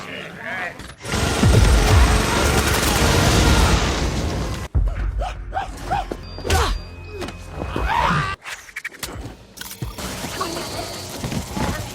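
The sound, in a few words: barrage of blaster shots in Thor film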